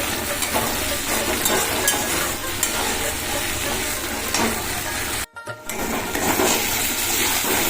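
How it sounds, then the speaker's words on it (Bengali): Spice paste for chital fish curry frying in hot oil, a dense steady sizzle with stirring, close and loud, briefly cutting out for a moment near the end before resuming. "দেখো মশলাটা খুব সুন্দরভাবে কষানো হয়ে গেছে তেল ছাড়তে শুরু করে দিয়েছে"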